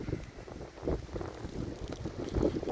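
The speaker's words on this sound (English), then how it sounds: "Turn right into the wind there." Outdoor wind buffets the microphone in winter weather, a low rumbling gusty roar that swells and dips continuously with no voices.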